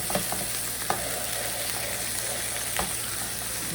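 Cheeseburger patties sizzle loudly in a pan as they are smashed down, a continuous close hiss broken by a few sharp scrapes and presses, with no voices.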